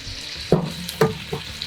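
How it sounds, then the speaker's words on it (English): Venison and bacon sizzle in a Dutch oven with a steady, close frying hiss, punctuated by a few sharp pops or utensil clatters, and no talking. "Oh yeah, listen to that stuff sizzle."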